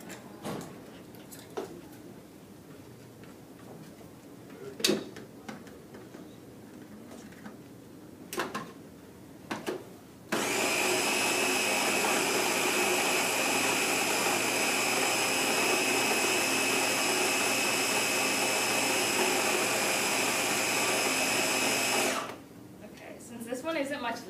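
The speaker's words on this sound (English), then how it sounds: "I'm just going to mix it around a little bit because the frozen fruit's hard to blend." A blender grinds hard frozen fruit in one loud, steady whir that lasts about twelve seconds and then cuts out. Before it starts there are a few clatters and light knocks.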